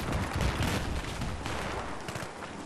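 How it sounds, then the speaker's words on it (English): Dense, continuous video game gunfire, loud and close throughout, sounding like sustained bursts of shots and volleys with heavy low thuds in the opening second. "Oh, he's shooting us!"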